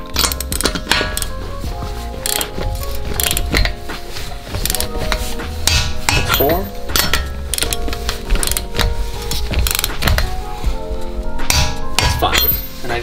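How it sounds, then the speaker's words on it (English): A torque wrench clicks on Toyota Corolla lug nuts amid clanking metal, with sharp ratcheting clicks and clunks in irregular bursts, close and fairly loud, without talk. "make sure it clicks all the way around. 76 foot-pounds."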